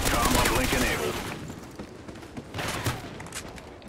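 Rapid video game gunfire bursts in a dense, loud volley, then fades and returns in a second smaller flurry, with a voice speaking over it.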